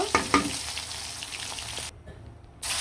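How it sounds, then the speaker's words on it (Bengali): Chicken leg pieces sizzle in hot oil in a pan, opening with two sharp clattering stirs and then a steady close frying crackle that briefly drops away before resuming. "এটা আমি লাল লাল করে ভেজে নিব আলাদাভাবে আবদুল্লার জন্য স্পেশালিভাবে এটা ভাজবো"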